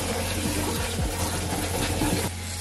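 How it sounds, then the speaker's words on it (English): A pan of lemon balm leaves fills with running water, a loud, steady gush that flows continuously and close by before easing slightly near the end. "And then I'm going to fill this pan with water."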